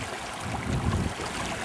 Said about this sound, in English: Sounds like there's a waterfall over there.